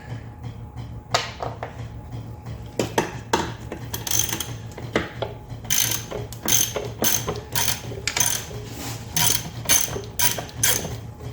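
A ratchet wrench undoing carriage bolts on a Ford 8N tractor during a transmission split, quick bursts of close metallic clicking repeated in a rough rhythm, with faint knocks between.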